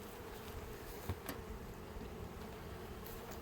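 Honey bees buzz steadily around an open beehive during outdoor beekeeping work, a dense low drone held at one level throughout, with no voices.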